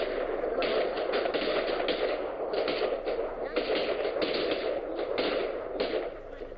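Sustained machine-gun fire during an attack by gunmen on the Indian consulate in Herat, Afghanistan, heard as loud, dense bursts of rapid shots over several seconds with no pauses.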